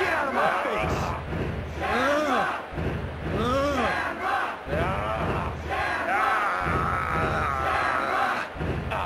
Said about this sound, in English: What's up with this crowd? They're really getting behind Ken Shamrock.